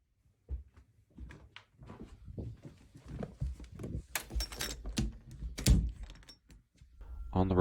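Knocks and door thumps sound from a toilet door in a quiet building at night, a series of close, sharp raps and handle clunks with breathy background noise.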